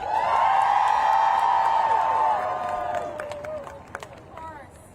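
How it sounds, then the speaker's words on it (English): Loud crowd at an outdoor rally in Washington, DC cheering and whooping with scattered clapping, a sustained roar that gradually fades as individual claps and shouts trail off. "can we please give a big, loud round of applause to our next speaker, Minnie."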